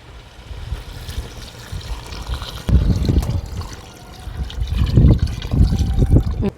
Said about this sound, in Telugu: ఒక చెమ్ము బియ్యంకి రెండు చెమ్ములు నీళ్ళు అయితే వేసుకుందామండి